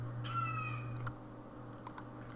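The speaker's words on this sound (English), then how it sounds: "I think it is funny that the bird clock made a little noise before I cut off the video." A bird clock sounds a brief crow call: a few faint, harmonic caws lasting about a second over a low steady hum, then quiet with a couple of small clicks.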